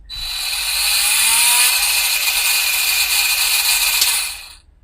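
A Parkside PWS 50 A1 battery angle grinder spins up and runs at high speed with a loud, steady high-pitched whine close by, then winds down after about four seconds.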